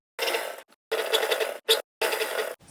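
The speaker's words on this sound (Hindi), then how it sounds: "अब कुर्ती की मैचिंग का धागा लगाएंगे और यहाँ पर पॉइंट की सिलाई लगाएंगे" A sewing machine stitches matching thread along the piping on a kurti, running in several close bursts of steady mechanical whirring separated by short pauses, loud and without any talk.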